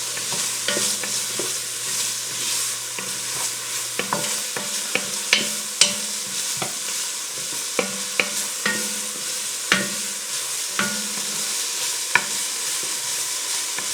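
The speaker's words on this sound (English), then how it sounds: "So I just want to cook these onions, not till they're fully brown or nothing like that, but just translucent." Chopped onions sizzle steadily in a hot frying pan while a spoon scrapes and clinks against it, giving close, irregular stirring knocks over the constant frying hiss.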